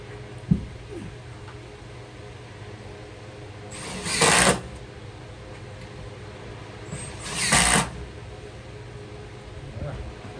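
Power drill driving screws into a beam of a post-and-beam carport build, two short loud whirring bursts a few seconds apart over steady outdoor background hum.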